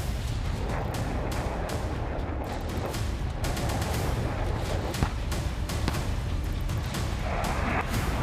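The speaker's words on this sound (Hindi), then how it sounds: "तोपों के धमाके," Distant artillery cannon fire booms repeatedly over a constant rumbling background at a large military exercise, Talisman Sabre 2025, blasts arriving at irregular intervals and moderately loud.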